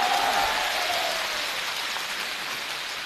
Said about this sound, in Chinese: 谢谢大家给我一个人的掌声